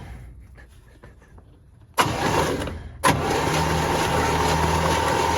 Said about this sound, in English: She kicking over, but she ain't catching.